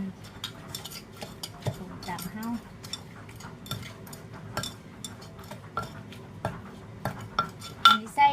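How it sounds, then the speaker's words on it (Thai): Carrot salad ingredients are pounded in a mortar in a Thai home kitchen, giving a run of sharp knocks and clinks at an uneven pace, close and moderately loud, with a voice talking over them. "โขกส่วนผสมลงไปนะคะ ให้เท่า ให้เข้ากัน"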